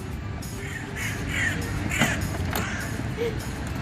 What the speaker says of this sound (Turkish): Karga ne yapıyor?